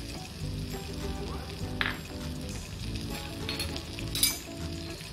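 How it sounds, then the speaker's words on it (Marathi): Finely chopped garlic sizzles in melted butter in a pan, a steady close crackle of frying with a few light clinks of a spoon stirring against the pan. "बटरमध्ये आता आपल्याला बारीक चिरलेला लसूण घालायचा आहे."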